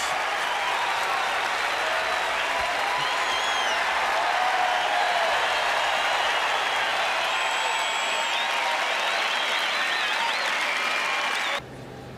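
Tennis crowd at the 1991 US Open in New York roaring and applauding after a Jimmy Connors game, a dense, loud, sustained wash of cheers and clapping that holds steady before dropping off abruptly at the end.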